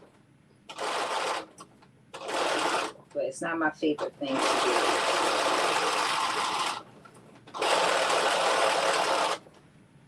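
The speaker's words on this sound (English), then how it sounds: "Sometimes the thing that I do dislike the most is going around these circles on the sewing machine." Bursts of a sewing machine stitching around circles, running in stretches, loud and close, with brief pauses between runs and a person speaking during one gap.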